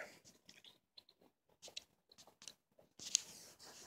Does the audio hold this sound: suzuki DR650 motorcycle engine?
no